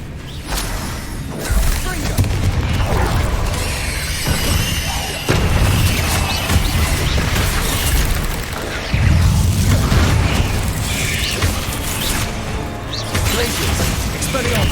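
Loud, close spell blasts from Hogwarts Legacy, repeated booming bursts and crashes that land every few seconds over a constant rumbling game soundscape, with a voice casting spells between the impacts.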